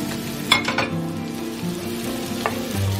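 Vegetables frying on a comal beside fish cooking on the other side, a steady loud sizzle with a few light clinks and scrapes of a utensil, and a low hum underneath.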